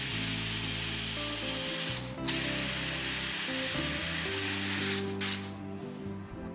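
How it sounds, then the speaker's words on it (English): A power drill whines steadily and loudly as it bores pocket holes into wood using a pocket hole jig, briefly easing off twice before biting in again. "Drill and make pocket hole."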